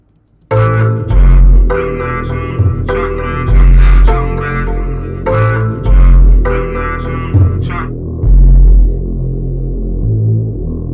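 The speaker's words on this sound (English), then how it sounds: "The Moog bass sounds like this." Deep, pulsing Moog synth bass notes throb in a steady repeating pattern, loud and upfront, with bright synth chords layered above and no voices.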